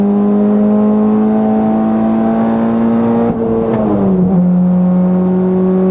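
A Volkswagen Jetta on a high-speed run at Bonneville holds a loud, steady engine drone, then a gear shift drops the pitch before the engine climbs again. The motor is close and loud, with no talk.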